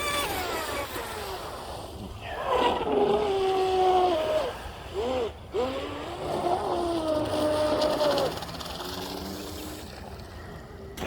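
A Pro Boat Blackjack 42 RC boat running at full throttle gives off a high, whining motor pitch that rises and falls as it makes its passes, moderately loud and heard alone.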